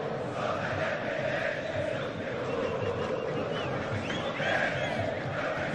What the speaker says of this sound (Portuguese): E a torcida do São Paulo aproveita para cantar.